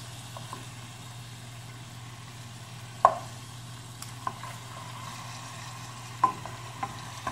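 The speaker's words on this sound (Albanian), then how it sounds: "tenxhere kemi vënë mishin për të kavdisur" Meat sizzling in a frying pan for a cabbage-and-meat dish, a soft steady crackle under a low hum, punctuated by a few sharp clinks and taps of a utensil against the pan.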